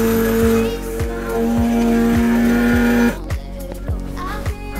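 Siroca SC-A371 Cafe-Bako coffee maker starting its brew cycle, set for four cups. A loud, steady motor whine with a shifting pitch runs throughout, backed by a regular ticking rattle, and turns rougher and noisier toward the end.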